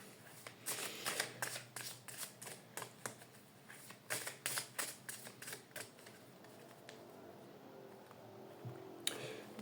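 Oracle cards being shuffled up close, a quick run of crisp riffling snaps that taper into softer slides and a final tap, faint and alone with no voice.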